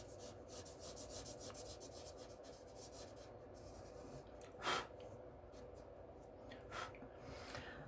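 Soft, repeated rubbing and scraping of white charcoal on drawing paper, close and faint, with one brief louder scuff midway.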